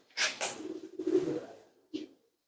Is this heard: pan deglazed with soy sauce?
no